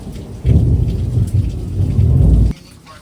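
A thunderstorm with heavy rain, a loud rumbling crack of thunder rolling for about two seconds over a steady downpour, then cutting back to rain alone.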